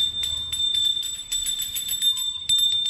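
A small hand bell rings repeatedly during a home puja in quick, bright jingles, fairly close, with a steady high tone running under the ringing.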